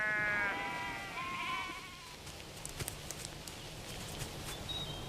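Sheep bleat nearby on a sheep station, two or three wavering bleats in the opening seconds, then quieter farm background with faint clops and rustles.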